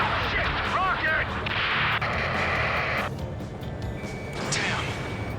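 A rocket explosion in Ace Combat 7, a loud blast and crackling roar that fills the scene and then fades to a lower rumble, with radio chatter and combat noise around it.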